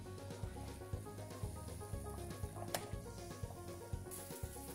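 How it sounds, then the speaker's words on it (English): A sausage sizzles in a hot frying pan, a quiet, steady crackle with soft pops and faint ticks throughout. "pop your sausage into a nice hot frying pan"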